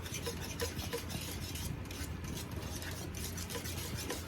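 Tuo zaafi mixture is stirred in a pot, a faint continuous scraping and rubbing of spoon against the pot with light clinks, low and steady throughout.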